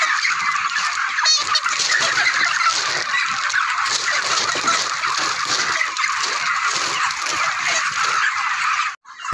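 A flock of chickens clucks steadily throughout, dense overlapping calls nearby, ending with a brief rustle.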